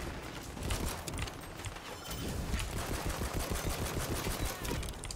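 Dense rapid gunfire from the video game Tiny Tina's Wonderlands, a steady loud barrage of overlapping shots running throughout with no clear pauses.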